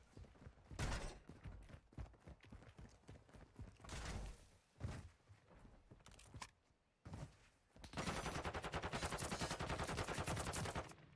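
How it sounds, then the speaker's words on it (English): Gunfire in a Rainbow Six Siege match: bursts of rapid shots and single cracks come in uneven clusters, then a long sustained automatic volley, loud and close with brief quiet gaps between. "Shots are going to ring out, but no kills so far"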